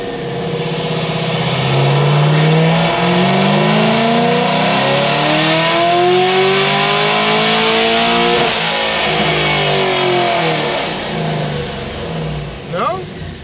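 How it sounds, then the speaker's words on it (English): A boosted car on 8 psi of boost pulls hard under acceleration. Its engine note climbs loud and close, then dips briefly as the automatic gearbox shifts from third to fourth and starts climbing again. Voices may murmur faintly underneath. "just do a little 3-4 auto upshift and let's see what we got"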